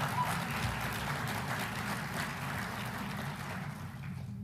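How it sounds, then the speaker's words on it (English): An audience at a city's State of the City address claps in a fairly soft, steady wash of applause that continues evenly and tapers slightly toward the close. "Let's give them another round of applause."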